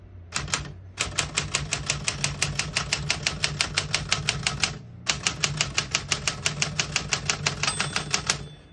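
Rapid, even keystrokes clatter on a 1964 Smith-Corona Galaxie II portable typewriter, two long close bursts of sharp strikes separated by a short pause, with no voices.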